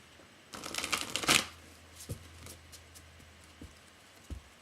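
Tarot cards being shuffled in a quick riffling burst, followed by a few soft taps and flicks of the deck, close by with no talking.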